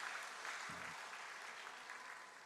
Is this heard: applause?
yes